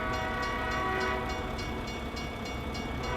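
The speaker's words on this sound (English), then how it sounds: "So where's this train coming from?" Freight train rolling past a crossing in American Truck Simulator, with box cars, auto racks, intermodal container cars and gondolas, a steady loud rumble with rhythmic clatter throughout.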